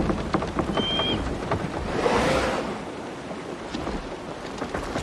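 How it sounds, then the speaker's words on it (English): Steady, dense rain in the video game Assassin's Creed Shadows hisses loudly and evenly throughout, with a brief swell in the middle and no talking. "Just listen to that rain."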